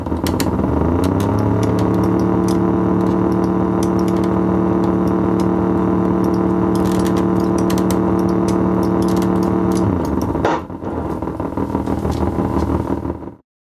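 A heavy tank engine from a 1974 video game drones and rumbles steadily, overlapping idle and revving tones, then shifts and cuts off abruptly near the end.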